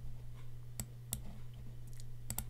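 Several crisp computer mouse clicks, single and doubled, sound close and fairly quiet over a steady low electrical hum while editing in Photoshop.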